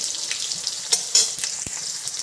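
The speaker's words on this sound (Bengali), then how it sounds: "আলুটাকে বেশ ভালো করে ভেজে নেব।" Potatoes fry in a wok with a steady, close hiss and crackle, dotted with small pops and a soft stirring knock, with no voices.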